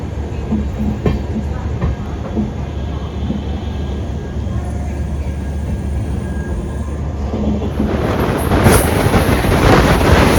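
Steady low rumble of a train departing Saharanpur Junction, growing a little louder and brighter toward the end as it picks up speed.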